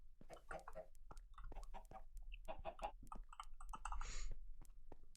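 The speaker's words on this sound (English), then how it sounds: "turn of events as we found 3 new chickens." Chickens cluck in a Minecraft game world, a series of short, fairly quiet clucks and squawks over a steady low background hum, with no talk over them.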